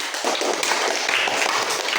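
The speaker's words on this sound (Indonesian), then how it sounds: "Tepuk tangan." A classroom of students applauding together, dense continuous clapping that stays loud and even for the whole couple of seconds.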